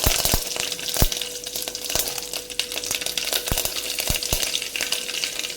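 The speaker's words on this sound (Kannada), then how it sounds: "ಒಗ್ಗರಣೆಗೆ ಒಂದು ಸ್ಪೂನ್ ಆಯಿಲ್ ಹಾಕ್ಕೊಂಡಿದ್ದೀನಿ" Curry leaves and mustard seeds sizzle in a spoonful of hot oil for tempering, a steady crackling fry broken by sharp pops and spoon clinks against the pan, close and fairly loud.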